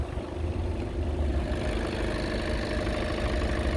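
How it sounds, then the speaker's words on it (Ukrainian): A Skoda Octavia 1.6 diesel engine idles steadily, a low continuous rumble with an even, unchanging drone and no revving, close by. "Зараз покажу, як працює двигун."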